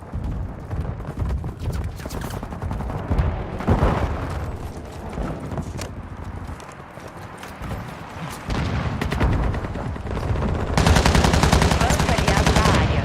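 Dense gunfire fills a Call of Duty match, with sustained machine-gun bursts and booming shots, loud and nearly continuous, growing more intense toward the end and mixed with in-game radio voices.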